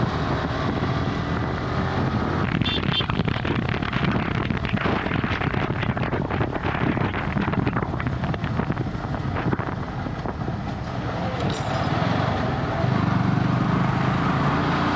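Motorcycles, a Royal Enfield Himalayan and a Yamaha R15, ridden fast off-road in the Kanchanagiri hills, giving a steady loud engine roar smeared with heavy wind buffeting on the microphone throughout.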